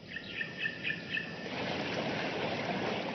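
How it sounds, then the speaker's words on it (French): Water birds at a nesting colony in the Amazon: a few repeated calls ring out over a steady wash of flowing water, then the birds fade and the rushing water carries on alone. "Des colonies entières d'oiseaux aquatiques viennent nidifier dans la région."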